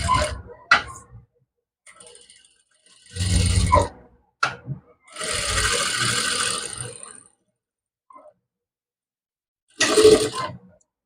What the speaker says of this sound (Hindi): बहुत ही आराम से हमें ये डिज़ाइन बनाते हुए ही सिलाई लगानी है इस तरीके से।